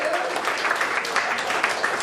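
A comedy club audience applauds for the venue's Hong Kong staff, a dense, even wash of many hands clapping at steady volume that carries on throughout, with faint voices mixed in.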